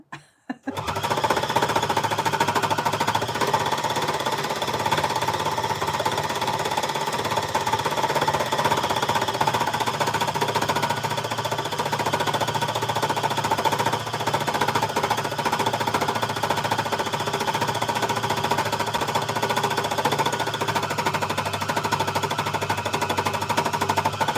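After a brief quiet start, an embellisher machine used to make fabric from scraps hammers away continuously, its fast, loud needle-punching rattle holding steady with no pauses for the rest of the clip.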